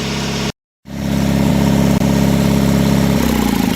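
Diesel engine of a Sears Suburban SS16 garden tractor idling loudly and steadily after a cold winter start, with a short cutout near the beginning before the even, throbbing run resumes.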